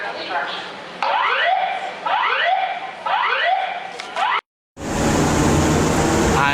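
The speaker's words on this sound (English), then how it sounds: "An alarm has been activated." A building alarm sounds in a repeating pattern of rising electronic sweeps, loud and close, after a pause in a busy amusement setting; it cuts off briefly and gives way to a loud, steady roar of noise.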